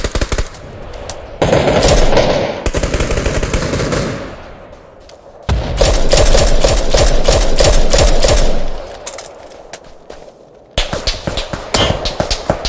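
Gunfire in the shooter game PUBG: loud bursts of rapid automatic fire, several sustained strings separated by brief pauses and a few single cracks, close and dense.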